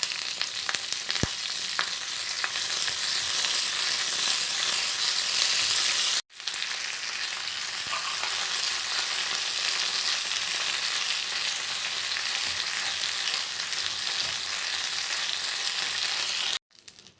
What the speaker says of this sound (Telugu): అందులోనే కరివేపాకు కూడా వేసుకుని ఫ్రై చేసుకోవాలి